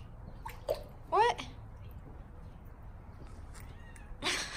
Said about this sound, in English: Look at the little kitten.